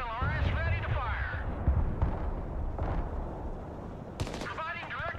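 Multiple rocket launcher salvo in the war game Broken Arrow, a rumbling series of muffled launch thumps with a sharper blast near the end, heard under intermittent talking.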